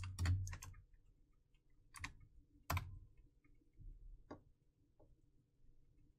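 Typing a command at a computer's command prompt on a keyboard, a handful of sparse, crisp key clicks spaced unevenly, near and alone in a quiet room.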